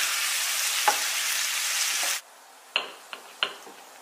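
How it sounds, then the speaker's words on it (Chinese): Carrot and pork slices stir-fried with garlic sprouts sizzle loudly and steadily for about two seconds with a spatula scrape, then stop, leaving a few sharp clinks of the utensil against the wok. "将蒜苗炒至断生就可以出锅啦"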